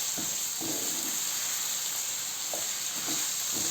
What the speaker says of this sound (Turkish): Bu şekilde yapıyorum. kavurarak kavuruyorum.